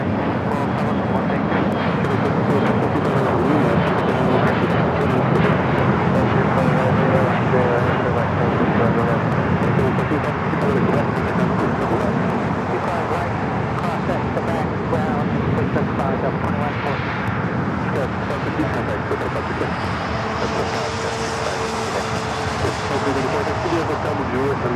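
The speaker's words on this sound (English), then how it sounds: "Air Premia, the Dreamliner coming in from Seoul" An Air Premia Boeing 787 Dreamliner arriving at LAX from Seoul at night, giving a steady, loud jet engine roar that holds throughout, with a commentator talking over it.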